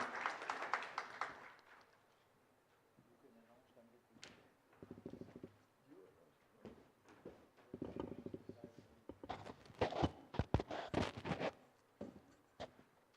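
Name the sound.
audience applause at roadshow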